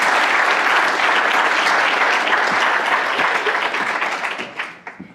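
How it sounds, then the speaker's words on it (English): A large audience at a university cleantech pitch competition claps in a loud, dense round of applause that holds steady, then thins out and fades toward the end. "another big round of applause"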